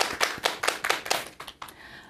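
Short burst of audience clapping at a Korean author talk show taping, a few scattered claps rather than sustained applause, tapering off within two seconds.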